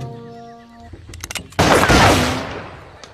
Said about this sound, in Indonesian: tembakan peringatan